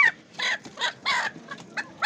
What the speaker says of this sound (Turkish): Bu da Sussex horoz herhalde değil mi yanındaki?